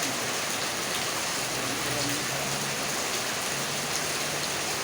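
Steady rain pours down, a dense, even hiss of drops on surfaces with no breaks, filling the whole clip.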